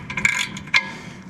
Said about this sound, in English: I can get my other socket here and adjust this thing down just a hair.